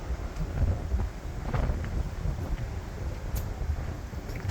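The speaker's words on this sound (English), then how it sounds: "it's windy" Strong wind on the deck of the docked cruise ship MSC Seascape buffets and rumbles across the microphone in uneven gusts, a continuous low roar with no talking.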